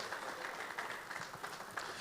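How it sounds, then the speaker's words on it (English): A crowd at a football association's competition awards ceremony applauds a young player, producing a faint, distant, even wash of clapping that lasts the whole moment with no talk over it. "Give Raheem another round of applause"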